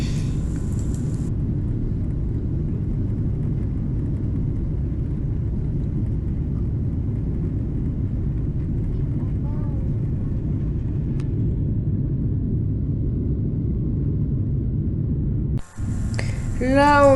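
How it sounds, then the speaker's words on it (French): Inside a passenger airplane, a steady low engine roar and rumble fills the cabin as it accelerates down the runway for takeoff, with a brief thump near the end. "on est en train d'accélérer et l'avion est en train de lever ses roues et c'est parti pour le décollage"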